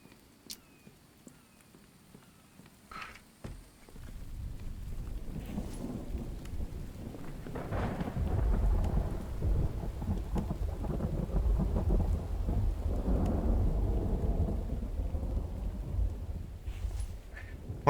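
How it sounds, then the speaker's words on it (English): Rain and thunder inside a survival video game, a quiet opening giving way to a steady broadband downpour with low rumbling thunder rolling underneath for most of the stretch. "It's raining again. That's the second time today."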